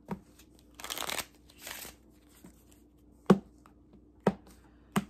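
A bad-quality deck of playing cards is shuffled in two short riffling bursts, followed by a few sharp, separate card snaps or taps against a quiet background.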